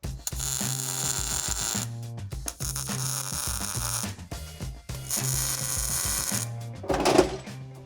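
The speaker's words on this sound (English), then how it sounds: "what that's gonna do, it's called a stitch weld." Stitch welding on an old Ford F-150 off-road build, a close buzzing crackle in repeated bursts of about a second or more with brief gaps between them.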